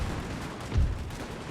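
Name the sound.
cannon fire in video game Napoleon Total War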